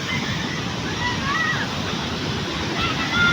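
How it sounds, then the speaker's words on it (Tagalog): Waves wash and slosh steadily along the shore in a continuous hiss and rumble, with faint voices drifting in the background. "andito ako pala sa tabing dagat"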